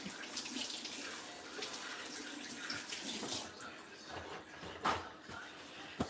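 Hands rinsed under a running kitchen tap, a soft continuous splash of water with a few brief clinks and knocks, fairly faint and close, with no talking.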